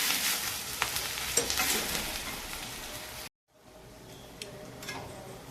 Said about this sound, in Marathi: 1 किलो कांदा आता परतून घेत आहे। हा कांदा चांगला लालसर होईपर्यंत परतून घ्यायचा आहे।